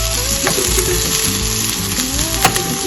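Beef burger patties frying in a pan give off a steady, close, crackling sizzle, with a few scraping stirs and utensil clicks along the way and no voices over it.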